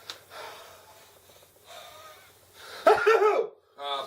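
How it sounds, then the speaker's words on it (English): A single person's sneeze bursts out near the microphone after quieter breathy vocal sounds, followed by a short voiced tail, with no clear words. "why do you say bless you after I sneeze?"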